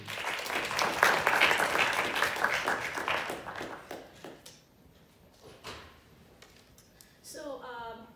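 Audience at a Columbia University panel on Dalit writing bursts into loud, dense clapping that fades away after about four seconds, followed by quieter room sounds and a voice starting to speak near the end.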